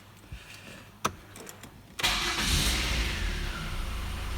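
A 2-litre Duratec engine in a Ford Mondeo Mk3 cranks briefly after a few clicks, then catches with a loud burst and settles into a steady, close idle.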